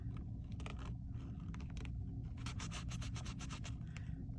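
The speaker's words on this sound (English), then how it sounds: "And just give it a rub." Fingers rub a glued paper rose petal in a quiet room, giving soft, close, continuous scratchy friction with a few brief bursts of rustling, no voices.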